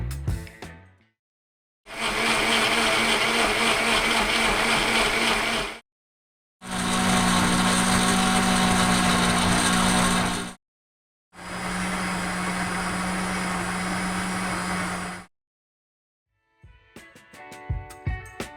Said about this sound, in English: blender A sounds pretty bad, with a lot of low-frequency wah wah wah kind of pulses